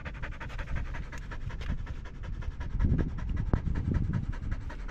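A big dog pants rapidly and steadily in hot weather, close and fairly soft, with rhythmic breathy huffs and no talking.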